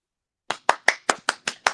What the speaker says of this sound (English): I do a clap.